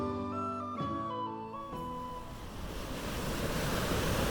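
Sea waves on the Asturian coast of the Cantabrian Sea rise into a steady surf roar as sustained music tones fade away in the first half.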